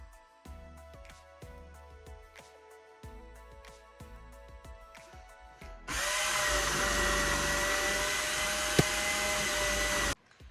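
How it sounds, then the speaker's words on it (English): Food processor grating zucchini, preceded by clicks and clunks of assembly, then a loud steady motor whir with grinding shredding noise for several seconds before stopping abruptly; no talking. "we're gonna use the food processor to grate up some zucchini"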